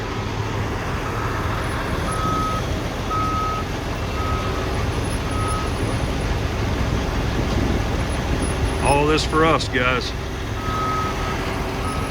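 An orange truck, likely a Manitowoc crane truck at a construction site, pulls up with a steady, repeating reversing beep over low engine rumble and road noise, while someone talks nearby.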